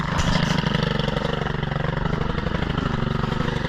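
A Stihl FS 131R string trimmer runs loud and close after a cold start, its small engine holding a steady, buzzing drone with no pauses.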